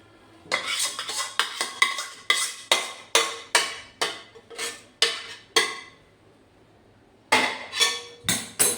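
Puffed rice tossed with hot jaggery syrup is stirred in a metal pot, about a dozen evenly spaced scraping, rattling strokes, a short pause, then several more quick clinking strokes.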